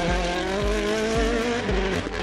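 Rally1 hybrid rally car with a 1.6-litre turbocharged engine producing 500 horsepower, its loud engine note rising and falling in quick repeated revs with shifts, close and continuous.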